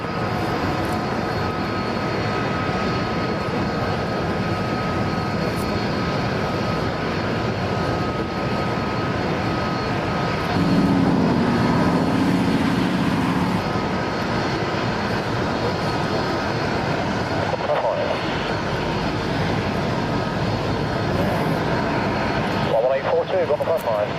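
Aircraft engines droning steadily at an airfield as a Lockheed Constellation lands and a Gulfstream jet departs, a loud continuous rumble with shifting engine tones and tower radio chatter over it.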